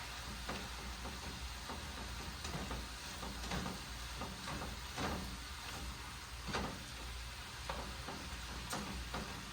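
Stroganoff ingredients, mushrooms among them, sizzle and fry in a pan. The hiss is steady and close, with faint scrapes and stirring taps scattered through it.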